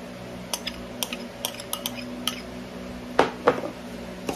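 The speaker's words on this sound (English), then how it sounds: "I'm gonna mix it up" Batter with a stick of melted butter, flour, cinnamon and salt being stirred in a bowl, heard as a string of light clinks and scrapes of a utensil against the bowl, with two louder knocks near the end.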